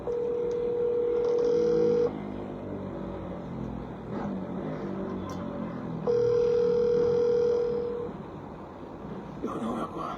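A telephone line rings out while someone tries to reach a phone: two steady electronic tone bursts, each about two seconds long and separated by a pause, sounding loud and clear over faint background noise.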